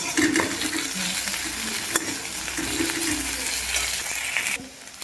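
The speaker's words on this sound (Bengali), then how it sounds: "এখানে যে পেঁয়াজ দিয়েছি কড়াই, এবার দিয়ে দিলাম থেতো করে রাখা রসুনটা" Crushed garlic dropped into onions frying in a wok, giving a sharp clatter and then a steady, close sizzle with stirring scrapes before it quiets at the end; nobody talks.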